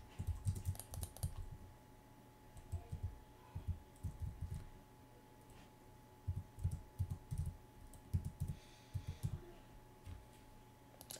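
Clusters of quiet keystrokes on a computer keyboard come in irregular bursts during a Hypixel Lucky Blocks game session, soft and close with brief pauses between flurries.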